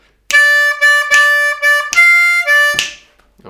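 Blues harmonica shuffle lick on a C harmonica, played loud and close as a run of steady eighth-note draws with a final breathy note, alone with no talking.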